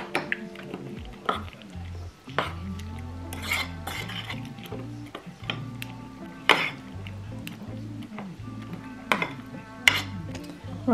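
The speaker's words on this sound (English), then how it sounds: "Stir well." A spoon stirs a chocolate One2One diet shake mixed with cold liquid, clinking and scraping against the container in an irregular rhythm, close and fairly quiet, with a voice speaking now and then.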